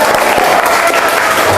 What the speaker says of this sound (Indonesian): Kita aplaus semangat dulu untuk kelompok keempat